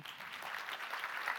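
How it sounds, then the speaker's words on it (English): Audience at an AI summit keynote applauding, a continuous wash of many people clapping, steady and fairly faint, as if heard from across a large hall. "Please give a warm applause to Wijnand IJsselsteijn"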